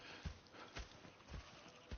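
Horse hooves clip-clop in the video game Red Dead Redemption 2, a few spaced, uneven hoofbeats over a soft ambient background, moderately close and fairly quiet, with no talk.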